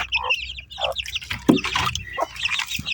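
Chickens cluck and chirp close by, a scattering of short, sharp calls overlapping one another.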